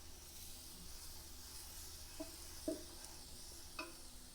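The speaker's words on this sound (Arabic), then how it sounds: "نقوم بتحريكه ليحتمس هكذا" Quail pieces sizzling in a pot as they are stirred, a soft, continuous frying hiss with a few faint scraping clicks from the stirring.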